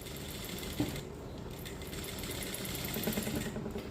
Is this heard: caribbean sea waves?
no